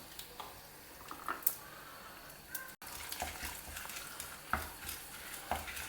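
Channa dal and about six dry red chillies frying in hot oil, a soft continuous sizzle with occasional stirring scrapes and light taps of a utensil against the pan, faint and close, with no talking.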